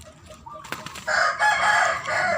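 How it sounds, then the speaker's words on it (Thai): Hens fighting each other: after a softer start, loud, close squawking and agitated clucking burst out and carry on to the end. "ที่ถ่ายทำไก่ตีกันนี้ เจอโดยบังเอิญนะครับผม"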